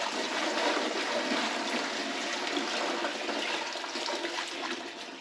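Water pours steadily onto a coir brick sitting in a trug, a continuous rushing, splashing flow that fades slightly toward the end, with no talk.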